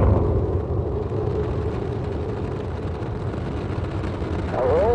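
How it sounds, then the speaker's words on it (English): Space Shuttle Atlantis at booster ignition and liftoff on the third Shuttle-Mir docking flight, heard as a low, continuous rumbling roar from a distance, fairly faint and swelling slightly toward the end. "Booster ignition and liftoff of Atlantis on the third Shuttle-Mir"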